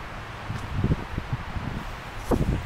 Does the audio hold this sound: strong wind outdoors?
yes